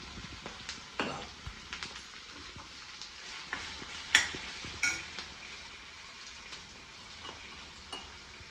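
Ginger paste sizzling in hot oil in a frying pan, a steady hiss broken by scattered pops and sharp crackles, close and alone with no voices.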